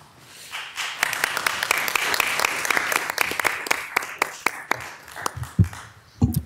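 An audience at a city council meeting claps for a proclamation, bursting into brisk, sustained applause with sharp individual claps standing out, then tapering into scattered final claps near the end.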